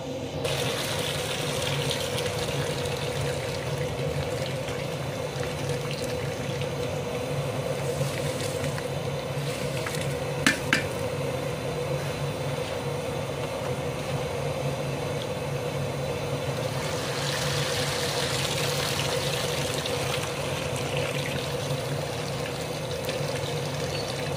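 Raw rice goes into a pot of boiling water, producing a steady rushing, bubbling wash of water with a brief metallic clink midway, continuous and moderately close.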